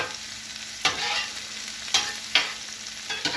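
Garlic and herbs sizzle in garlic butter in a pan with a steady frying hiss, broken by several sharp stirring scrapes spaced about a second apart, close and alone without voices.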